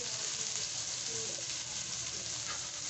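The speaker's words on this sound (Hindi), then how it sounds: "ऑयल थोड़ा सा गर्म होगा तो फिर इसमें प्याज डाल देंगे" Two medium chopped onions frying in hot oil in a kadai for aloo gosht give a steady, close, continuous sizzle that stays even throughout, with no talking.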